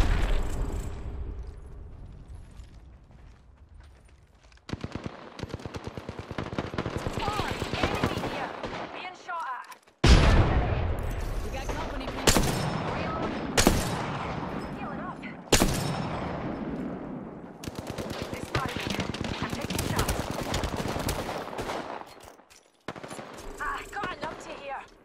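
Gunfire in a video game Apex Legends arenas match: loud bursts of rapid automatic fire and single shots, repeated in several long volleys separated by brief pauses.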